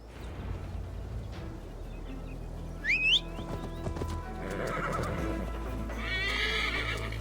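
A horse neighs and whinnies in the Assassin's Creed Valhalla game, with steady hooves clip-clopping beneath as it is ridden through an untamed forest in Gloucestershire, the whinny rising sharply near the middle over a low continuous rumble.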